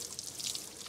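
Water dripping over the lip of a 3D printed outdoor outlet cover, a brief close patter of trickling drops and splashes with a steady wet hiss, no voices.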